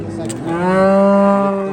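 A cow from a pair of eight-month-old local javdari cattle on a farm lets out one long, loud moo that swells and holds steady, close by and with no other sound over it.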